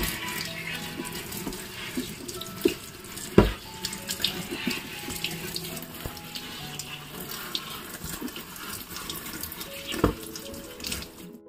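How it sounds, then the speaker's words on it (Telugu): Running tap water splashes steadily over a money plant bottle being washed in a sink, a continuous close gush with occasional louder knocks and clatters of the bottle against the basin. "తర్వాత బాటిల్ అంతా క్లీన్ చేసేసుకొని తర్వాత ఈ ప్లాంట్ను కూడా క్లీన్ చేసుకోండి."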